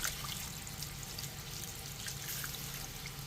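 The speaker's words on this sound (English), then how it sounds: "we are going to take the bone broth and pour it over the roast" Bone broth pours steadily over a pot roast, a close, continuous watery splashing and trickling with no pauses or voices.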